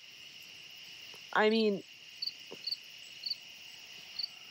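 A loud cricket chirps close to the microphone at a campsite, with short repeated high chirps, and a person speaks briefly partway through.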